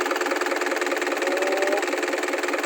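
The Isuzu diesel engine of a Kobelco SK04N2 mini excavator runs close by with a loud, even, throbbing pulse, holding a steady raised speed without any voices.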